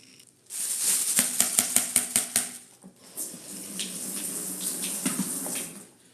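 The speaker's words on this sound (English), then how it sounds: "at least that'll give me a little bit more time to wash this last pot" A pot is washed in a kitchen sink under running water, steady tap flow with a burst of rapid clanks and knocks, then a brief pause before the water runs on with scattered rattles, close and without talk.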